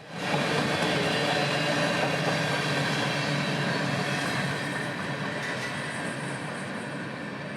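Freight train 604 rolls past on the A Line, a loud, continuous rumble of wagons and wheels with rhythmic clatter, close by and steady before easing slightly toward the end.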